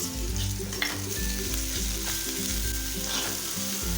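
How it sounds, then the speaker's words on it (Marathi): Ginger-garlic paste frying in oil with lightly browned onion gives a loud, steady sizzle throughout, with stirring strokes through the hiss and no voices. "ती पेस्ट पण आपल्याला तेलावरती छान अशी एखादा मिनिटं मिनटं परतून घ्यायची आहे"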